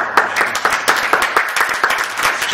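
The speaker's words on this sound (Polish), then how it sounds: "Brawa." Audience applause at an academic lecture, loud and close, with distinct individual claps in a quick uneven rhythm over a background of wider clapping.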